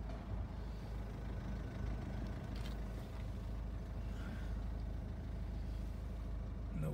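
Citroen Picasso engine idling at a low, steady tick-over, a quiet continuous rumble heard close by with no voices.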